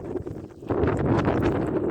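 Strong wind at a beach during net fishing with a canoe, a steady roaring buffet on the microphone that swells louder partway through, with no talking.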